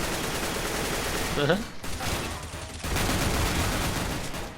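Gunfire in a first-person shooter match demo, sustained bursts of automatic shots rattling under continuous game ambience, with a short break before the firing resumes, moderately loud.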